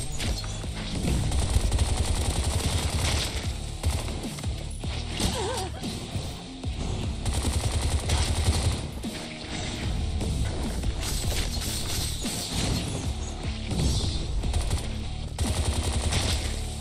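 Rapid automatic gunfire from the video game Bright Memory, dense bursts of shots running almost continuously under game music and effects, loud and close throughout.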